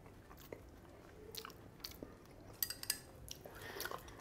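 Someone eats crispy whole sweet and sour fish, with soft crunchy bites and chewing close to the mic, quiet and sparse, punctuated by a few light clinks of cutlery on a plate.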